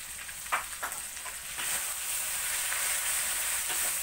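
Fish curry ingredients with chicken and fish curry powder sautéing in a pan, a steady close sizzle that swells louder midway and holds, with a few light stirring scrapes early on.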